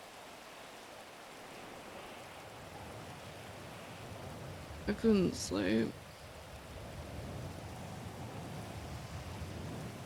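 Steady rain falls in GTA roleplay on NoPixel, a soft continuous hiss that runs throughout at moderate level, with a brief spoken line in the middle.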